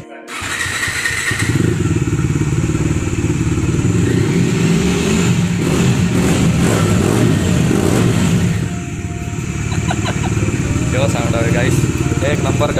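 A motorcycle engine idles loudly, then revs up and holds a throaty roar, dipping briefly before revving again; close and sustained.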